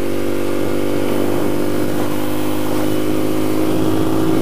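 A Ducati motorcycle engine runs steadily while being ridden, with a loud, constant droning rumble and no clear revving peaks, close and alone without talk.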